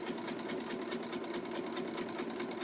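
Sewing machine running a final stitching line, a fast, even needle rattle that holds steady and close, fairly quiet, with no talking.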